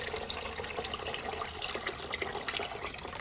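Water rushes steadily into a pot to wash parboiled rice for jollof, making a continuous close splashing gush with no voices.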